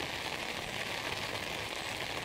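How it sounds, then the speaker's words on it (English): Heavy rain pouring down onto a lake cove in a national forest, an even, continuous patter and hiss with no talking. "this cove has got a lot of rain coming down"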